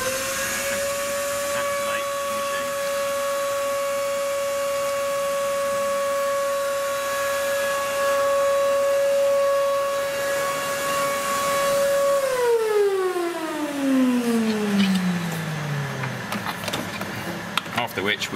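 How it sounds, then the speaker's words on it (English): A Hoover vacuum cleaner runs steadily during walnut blasting of the inlet valves on a Mini Cooper S R56. Its loud, constant whine holds for a long stretch, then winds down in pitch as the motor spins to a stop. "We then switch on a Hoover."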